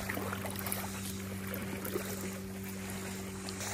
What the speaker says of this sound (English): some wakes are coming toward us. We're about to go on a little ride.